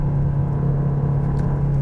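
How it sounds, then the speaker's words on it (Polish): A steady, loud engine drone at 4000 rpm with a deep constant hum, heard from inside a moving 2016 Fiat Tipo with a 1.4 16v 95 hp engine. "silnik zaczyna się odzywać całkiem niezłym dźwiękiem"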